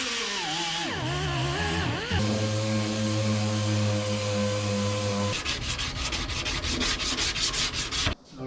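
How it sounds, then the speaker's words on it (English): Sanding on the fender of a 1963 International Harvester Loadstar truck, a continuous abrasive whir with a steady motor hum, then shifting to rougher, pulsing scraping strokes near the end. "He's sanding on the fender, which I was doing"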